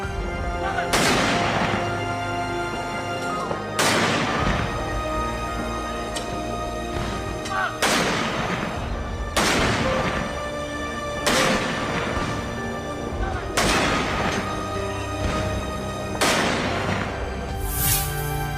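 A seventeen-gun artillery salute at a general's funeral: heavy booms fire one at a time at a slow, steady interval of about two seconds, each decaying into a rolling echo.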